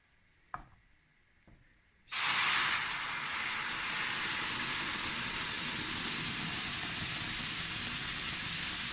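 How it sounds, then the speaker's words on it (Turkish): Syrup poured into hot roasted corn flour halva in a pan sets off a sudden loud, steady hiss that holds at a constant level after a few faint clicks. "Şimdi içerisine şerbetimizi katacağız."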